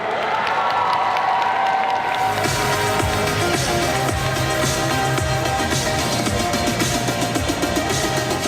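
A large crowd of spectators at a solo cosplay contest breaks into loud, sustained applause and cheering, dense clapping with shouts and whistles layered through it, continuing steadily from start to finish after a brief quieter opening.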